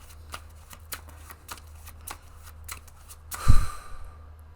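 A Wizard Tarot card deck is shuffled close up, its cards riffling in soft, regular flicks that end in one louder ruffle and a settling swish.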